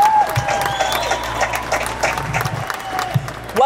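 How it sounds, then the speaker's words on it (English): A TV studio audience applauds, a dense burst of clapping with light crowd noise, loud and sustained throughout the short span. "I'll give them a big hand."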